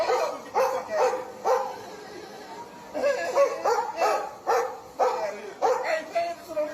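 Several dogs bark repeatedly and close by, in a steady rhythm of sharp bursts through most of the stretch, with a short pause midway and voices mixed in.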